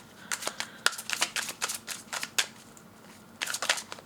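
Tarot cards are riffled and shuffled by hand in quick bursts of crisp flapping, pausing briefly before another flurry, close and fairly loud.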